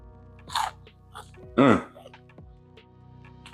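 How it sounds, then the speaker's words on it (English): Two loud, close crunches of teeth biting into crispy air-fried Korean-style fried chicken, about a second apart, followed by quieter chewing with no talk. "You hear that crunch, right?"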